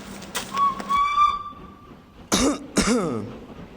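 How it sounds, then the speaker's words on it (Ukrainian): A train whistle signals arrival at a platform during a staged event for teachers: a sustained, steady whistle tone for over a second, then two short, harsh bursts, close and moderately loud. "наш веселий потяг вже наближається до перону"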